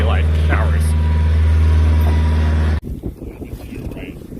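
A sailboat motors under engine on the open sea, a loud low steady drone that cuts off abruptly partway through, leaving wind, water and people talking.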